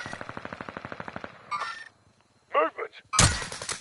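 Gunfire in a shooter video game, a rapid rattling burst of evenly spaced shots followed by scattered metallic clangs and a sharp loud blast near the end.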